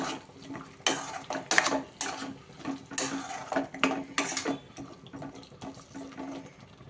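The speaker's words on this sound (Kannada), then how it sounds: "ಈಗ ನೀರು ಆ್ಯಡ್ ಮಾಡ್ಕೊತಾ ಇದ್ದೀನಿ ನಾನು" Water splashes and pours in a few separate bursts into a pot of potato curry, mixed with metal clinks of the pot or utensils, close by with no talking.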